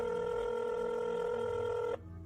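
A telephone tone sounds steadily for about two seconds on a call to the sheriff's department, clear and unbroken, then stops abruptly, leaving faint low background noise.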